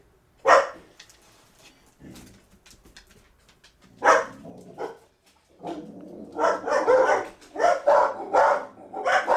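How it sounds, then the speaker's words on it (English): Dogs barking at a visitor at a woodworking bench, loud, sharp barks in scattered bursts that build into a rapid, agitated run of barking near the close. "I had a visitor and dogs went off on one, which they always do"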